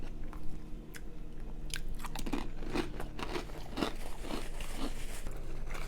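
Crunching bites of barbecue flavored Doritos, a run of crisp, close chewing crackles repeating steadily over several seconds, with a faint low hum beneath.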